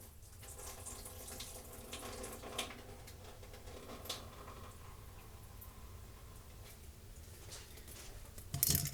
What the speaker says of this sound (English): So I put a can of green beans on the bottom and I'm going to drain these.